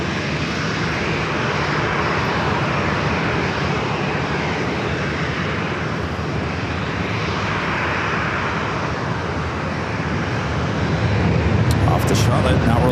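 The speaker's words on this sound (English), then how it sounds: "American 582, runway 27, clear to takeoff." An American Airlines airliner takes off on runway 27 at San Diego airport, its engines roaring steadily and swelling slightly toward the end, with faint talk underneath.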